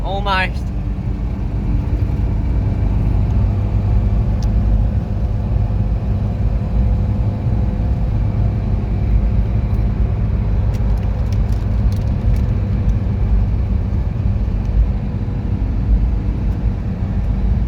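An older Toyota Hilux being driven, its engine giving a steady, loud, low rumbling drone from inside the cab that holds constant without a break.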